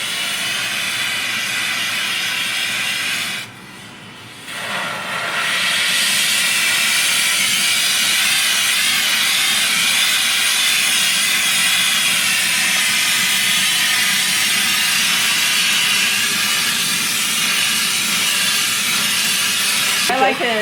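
A jeweller's torch burns a steady, loud roaring hiss as a preheat flame heats 14K gold for lost-wax casting, with a brief dip in the flame noise early on before it holds steady.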